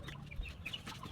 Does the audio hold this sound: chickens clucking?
yes